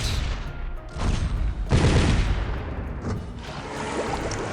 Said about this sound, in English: Yeah, we have 3 battleships. So if we bombard that...